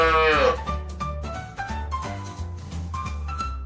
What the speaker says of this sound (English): It's a goat. A baby goat is called a kid.